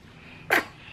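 A single short, sharp sneeze bursts out midway, close and fairly loud, against a quiet background.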